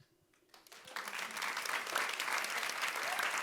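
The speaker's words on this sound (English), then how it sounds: "Don't clap yet." Audience applause starts after a quiet moment, then swells into steady, sustained clapping from a crowd at a panel talk and holds at full strength.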